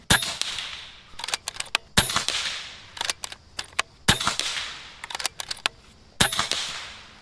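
An air rifle with a freshly charged air cylinder fires pellets at a target, sharp cracks every couple of seconds, each followed by a quick cluster of metallic clicks from handling or cycling.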